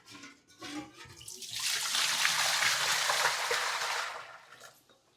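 Water is poured into a container for soaking raw jackfruit, a steady hissing splash that swells in after a moment, holds, then tapers off.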